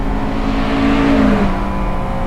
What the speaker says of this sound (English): Still revving. Can't even get to red line in third.